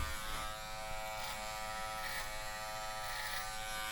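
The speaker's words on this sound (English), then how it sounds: "Clipper over comb, blending as you can see here." Electric hair clipper buzzing steadily up close as it blends hair clipper-over-comb, a continuous bright drone with slight pulsing as the blade moves through the hair.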